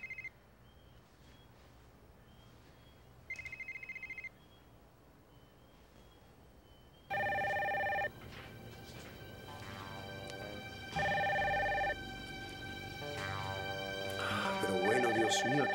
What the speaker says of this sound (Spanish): aquí no hay suficiente gente como para que atiendan ese teléfono una buena vez